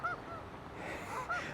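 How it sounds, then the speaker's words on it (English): Geese honking outdoors by the Fox River, with a couple of short nasal calls at the start and again near the end over a steady outdoor background. "There are a lot of geese right out in front of me."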